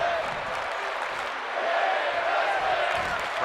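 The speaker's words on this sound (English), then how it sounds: "Crowd showing their appreciation for women's wrestling" A wrestling arena crowd at a women's match cheers and applauds in a steady, dense roar of clapping and voices that swells slightly partway through.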